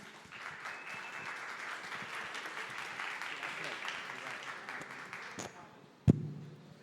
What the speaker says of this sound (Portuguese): E agora, Felipe Escudeiro, salva de palmas.